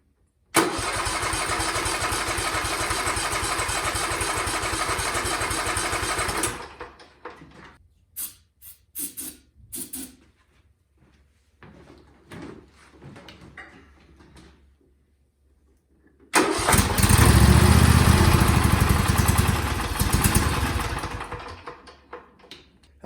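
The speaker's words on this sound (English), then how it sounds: "we'll let the generator run" A generator engine runs loud and steady for several seconds, then cuts out to near quiet with a few scattered clunks and knocks before it roars back even louder and keeps running close by.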